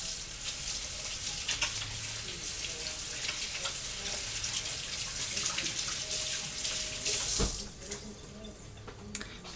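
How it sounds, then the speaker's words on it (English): Water running steadily from a kitchen tap during hand washing, a continuous splashing hiss with brief clatters and a louder knock near the end before the flow quiets. "I'm gonna wash my hands."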